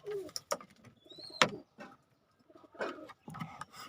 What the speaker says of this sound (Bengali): সব রকমের ব্লাড লাইনের কবুতর বাইরে বের করে দিচ্ছি